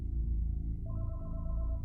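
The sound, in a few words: house telephone ringing, sound effect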